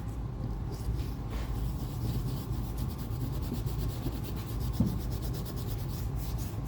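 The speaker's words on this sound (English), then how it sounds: "Little Cadillac leather lotion with our trusty dauber brush." A dauber brush rubs Cadillac leather lotion onto Lucchese alligator boots, giving a steady, close, soft scrubbing swish that continues without pause for several seconds, with no talking.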